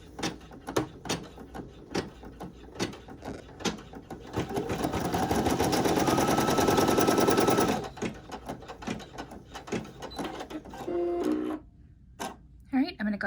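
A Brother PE800 embroidery machine stitches applique fabric onto a shirt, a dense rapid mechanical whirr that builds and runs steadily for several seconds. Choppy bursts of stitching and handling noises come before and after it, and people talk nearby.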